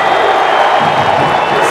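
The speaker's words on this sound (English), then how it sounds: "the home fans now are standing, they're cheering, they're clapping" Home fans at a U.S. Open Cup soccer final, Philadelphia Union against Seattle Sounders, cheer and clap in a dense, loud stadium roar that holds steady throughout, with commentary talk over it.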